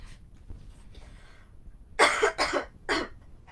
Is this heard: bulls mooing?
no